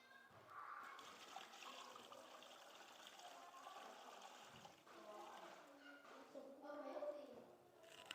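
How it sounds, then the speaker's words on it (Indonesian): Water pours into a bucket during a classroom water-cycle demonstration, a faint steady splashing and trickling that continues under a teacher's speech. "Kita masukin dulu airnya."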